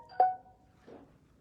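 A brief electronic ring from a nearby phone during an indoor Halloween craft program, one short tonal burst followed by a fainter second chirp, alone with no talk.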